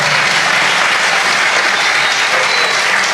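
Loud, dense applause from a large audience at an Indonesian religious talk, steady and continuous throughout with a faint crowd murmur underneath.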